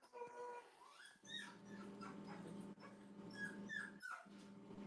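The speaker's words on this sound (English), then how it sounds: "Johnny Mags, quiet your dog." A dog whimpers and lets out high, thin yips across the clip, with whines rising and falling close by over a steady low household hum and no talking.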